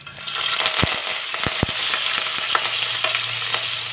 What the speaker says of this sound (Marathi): त्यानंतर मग एक चमचाभर जिरे घालायचे